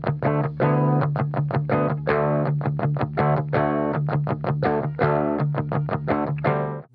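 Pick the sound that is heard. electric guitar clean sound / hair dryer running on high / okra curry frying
electric guitar clean sound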